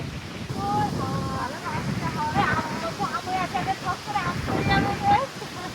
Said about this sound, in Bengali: নদীর ধারে ঠান্ডা হাওয়া।